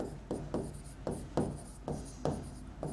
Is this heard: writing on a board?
yes